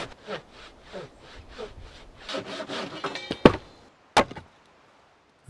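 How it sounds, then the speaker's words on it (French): A Japanese saw cuts through a wooden board for a surfboard build, close and fairly loud, with steady rhythmic rasping strokes followed by a few sharp knocks. "J'attrape la scie japonaise que m'a prêtée mon ami Maxime, et en avant pour la découpe."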